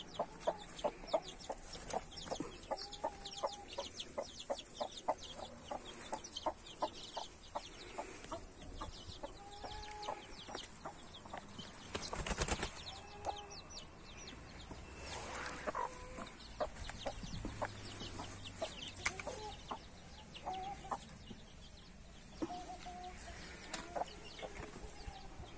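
Several chickens cluck steadily close by, with overlapping calls and short squawks against a busy farmyard background.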